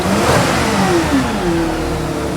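Mercedes Sprinter van diesel engine running after a DPF regeneration, a steady loud mid-range drone with rising and falling revs, no voices.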